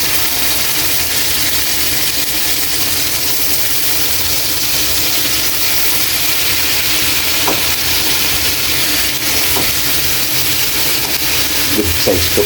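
Shrimp and garlic fry in a pan for butter shrimp, a loud, steady sizzle and hiss filling the whole stretch, with a few faint clinks of stirring near the end.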